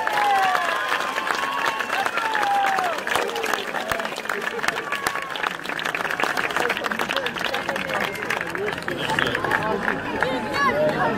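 An outdoor audience at a Napoleonic battle reenactment applauding the artillerymen, a continuous patter of clapping from a sizable crowd mixed with scattered voices and chatter.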